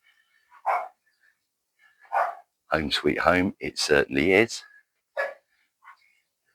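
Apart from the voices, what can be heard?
small dog barking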